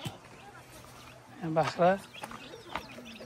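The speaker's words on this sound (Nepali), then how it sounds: "यहाँ कुखुरा" A chicken clucks a few times close by in a village, a short rising burst amid soft outdoor background noise and a faint voice.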